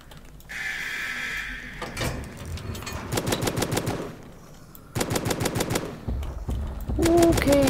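Bursts of rapid AK rifle fire in the Roblox game Zombie Hunters, several loud automatic volleys separated by short pauses and quieter game noises.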